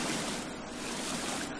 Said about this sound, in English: Okay, so we have a waterfall over here.